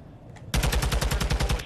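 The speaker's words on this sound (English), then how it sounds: "Ah, he's shooting." Rapid automatic gunfire in an online shooter game, a sudden loud burst of evenly spaced shots that starts abruptly and rattles on for over a second, close and alone.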